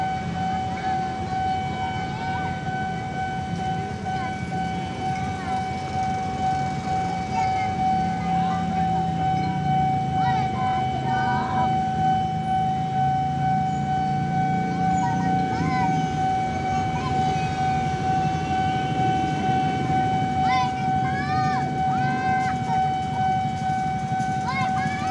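CC203 freight locomotive passing level crossing JPL 05 Angke: a steady, piercing crossing warning tone sounds throughout over a low rolling rumble of the train, with brief horn-like blips and faint voices in the background.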